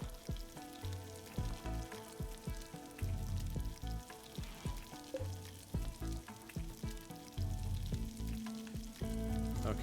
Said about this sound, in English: I heard the sizzling.